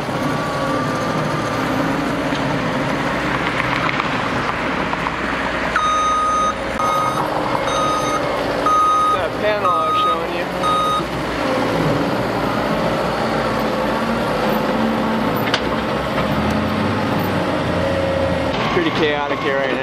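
Construction trucks moving dirt at a stadium building site rumble continuously while repeated reversing beeps cut through a dense mix of engine and machinery noise, loud and close.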